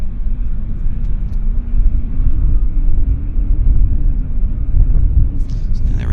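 An airliner departs on the runway at Vancouver Airport, giving off a steady, heavy rumble that swells and holds at a distance for several seconds, with no voices over it.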